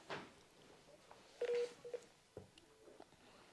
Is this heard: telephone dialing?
yes